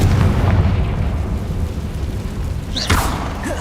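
A Confringo spell detonates in Hogwarts Legacy, a loud, rumbling magical explosion that booms and rolls on, with a sharper burst and crackle near the end.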